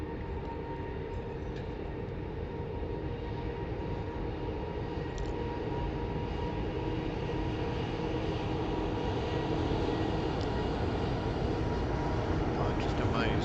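An eight-year-old Airbus A380 sits on the runway before a flight to Miami. Its engines give a steady, low, rumbling drone, heard from inside the cabin, with a faint whine that holds an even level throughout.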